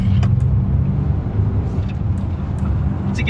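A BMW car drives along at moderate speed, with a steady low engine and road rumble close by and faint higher ticks scattered over it.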